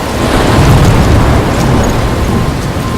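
Thunderstorm with rain in the video game Life is Strange, heard as a dense, loud, steady roar of downpour with low rumbling throughout, no speech.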